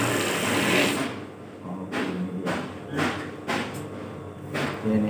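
A sewing machine stitching a straight seam runs in several short bursts with brief pauses between them, close and fairly loud, with no one talking.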